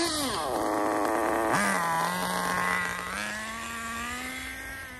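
A new nitro RC car engine buzzes at high pitch, revving up sharply, dipping, then holding a steady whine at moderate throttle, fairly close and alone.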